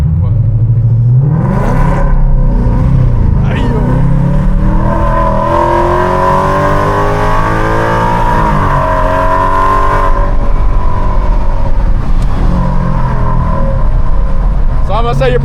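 A Ford Mustang GT with a 5.0 engine revs close by, a loud, steady rumble climbing and falling in repeated sweeps, with people talking over it.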